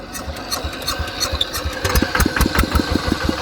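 A used motorcycle at a repair shop runs close and loud, its engine chugging steadily with a rapid rhythmic pulse and a rough, slightly clattery tone throughout.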